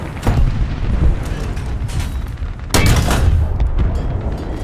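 Deep booming blasts of a Turan III tank cannon hitting a KV1 in the War Thunder video game, set against a heavy low engine rumble, with one sharp loud shot standing out near the end.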